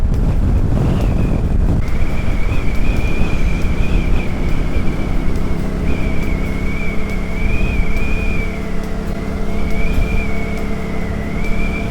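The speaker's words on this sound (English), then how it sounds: "It is so windy right now." Heavy, roaring wind buffets the microphone while riding a Yamaha Tenere motorcycle at high speed on a rally, a constant loud rush with a faint whining engine tone running through it.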